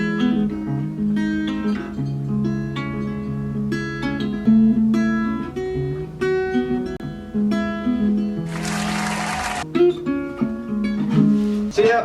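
An electric guitar plays a melodic line of plucked notes and chords, close and continuous with no voices, broken by a brief bright noisy burst partway through.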